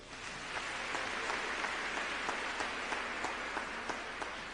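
A church congregation applauding together, steady dense clapping from many hands filling the room at an even level throughout, no voices standing out.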